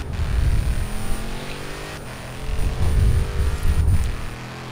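Supercharged V8 roar from Dodge Challenger Hellcat and Charger Hellcat cars in a Forza Horizon 3 drag race. The engines drone loud and steady, swelling with each gear change and backed by a high whine.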